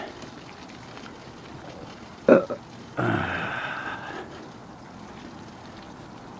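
A single belch after drinking a can of tea, one short strong burst followed by a longer rumbling eructation lasting about a second, close to the microphone against quiet background.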